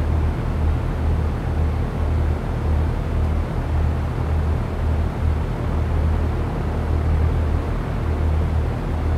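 A light aircraft engine drones steadily on landing approach in X-Plane 11 at Lees Summit Airport, a continuous low hum with the throttle pulled back, close and even throughout.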